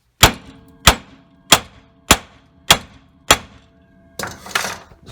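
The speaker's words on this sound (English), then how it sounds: "BFH, the big friendly hammer," A big hammer strikes a gear puller set at the seven o'clock position on a rusty 16-year-old front hub bearing of a Chevy Tahoe, six sharp metallic blows at an even pace, then a rattling clatter.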